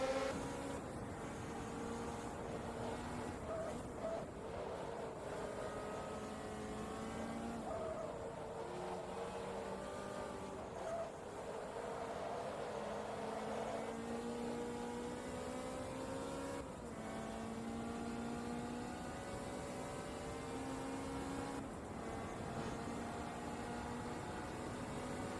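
A Ferrari race car in Forza Motorsport 2 drones steadily up and down through its revs, the engine note rising and falling in long sweeps with no talk over it.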